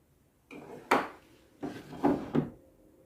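Hidden compartment door on a 200-year-old wooden desk in a historic Jamaican great house being opened, a short series of close wooden knocks, clunks and creaks in a quiet room.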